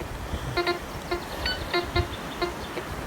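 Short electronic metal detector beeps repeat at irregular intervals, roughly five or six tones over a few seconds, over a faint outdoor background hiss at a medieval lake site in Ukraine.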